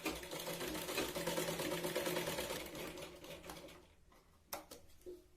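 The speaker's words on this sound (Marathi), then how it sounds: "याला आपण डबल शिलाई देतोय खाली" A sewing machine runs a fast continuous double stitch along blouse tucks, a dense rattling whir that slows and stops, then leaves a few sharp clicks as the fabric is handled.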